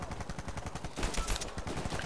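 Rapid automatic gunfire in an Uncharted 4 multiplayer match comes as fast repeated bursts of shots, fairly quiet, with a heavier thump partway through.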